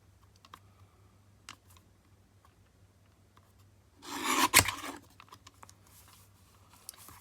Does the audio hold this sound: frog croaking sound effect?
no